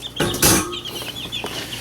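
Chickens cluck and chirp close by, with a few sharp, loud calls early on followed by a run of high peeping notes and softer clucks from chicks, young hens and roosters.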